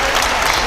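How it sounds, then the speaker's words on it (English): Steady, dense applause fills the main stand of a football stadium at a York City versus Middlesbrough friendly, a broad continuous wash of clapping from a large crowd with no gaps across the short stretch. "Applause around this main stand behind us and the end away to our left"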